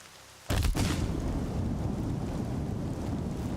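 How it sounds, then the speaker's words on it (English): Rain in the video game Horizon Zero Dawn starts abruptly after a brief quiet moment, then continues as a dense, steady hiss and rumble, loud and enveloping, with no speech. "Rain's not so bad."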